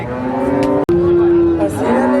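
A Holstein Friesian dairy cow at a cattle market gives a single loud, drawn-out moo, close by and steady in pitch before trailing off.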